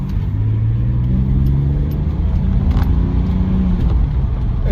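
The engine of a BMW 635CSi E24 with a dogleg manual gearbox idles smoothly close by, a loud, steady low rumble with a faint drifting hum and no speech.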